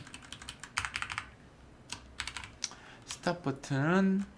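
Rapid keyboard typing in bursts of clicks and clacks during a computer programming session at a desk, close and clear, with brief pauses between runs of keystrokes and a short stretch of talk near the end.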